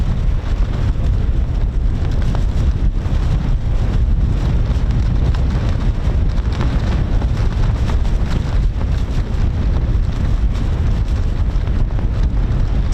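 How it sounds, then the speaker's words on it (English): Strong wind buffets a microphone outdoors near RAF Lakenheath airbase, producing a constant low rumbling roar with gusty fluctuations throughout and no talking. "It's a bit windy at the moment up here"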